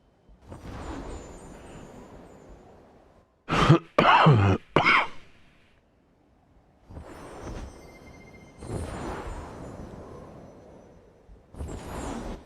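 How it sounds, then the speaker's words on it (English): A person coughs and clears their throat indoors, with several separate bursts: a few rough hacking throat-clears spread through the span and a sharp, louder cluster of coughs near the middle, with quiet pauses between them. "I'm gonna stop this coughing"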